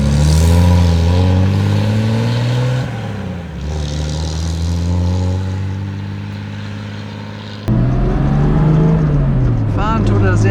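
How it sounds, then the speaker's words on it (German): The engine of a 1955 Mercedes 300 SL Gullwing drones steadily from inside the car while driving, rising and falling with shifts in revs, with a sudden louder surge near the end. "eine gut laufende Maschine. Motor läuft sehr, sehr schön."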